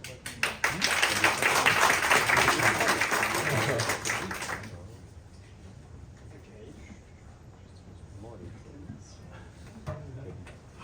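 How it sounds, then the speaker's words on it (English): An audience at a startup pitch session breaks into a burst of applause lasting about four seconds, then it stops abruptly, leaving quiet room noise with scattered faint taps. "Can you just give them a round of applause?"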